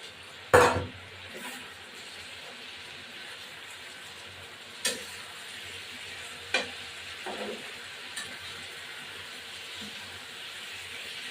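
Green jackfruit and shrimp fry in a pan with turmeric and chilli, giving a soft, steady sizzle with a few sharp clatters and stirring knocks. The first clatter is loud and the later ones are fainter.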